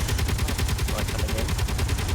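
Aircraft strafing fire in a game, heard as a rapid, steady stream of evenly spaced gunshots lasting the whole two seconds, loud and near, with a faint voice underneath.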